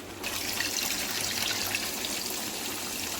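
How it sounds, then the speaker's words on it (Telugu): Tamarind water pours steadily into a pot of fish curry, a continuous close trickling splash lasting a few seconds with no speech. "ఇప్పుడు చింతపండు పోసేస్తుంది నేను"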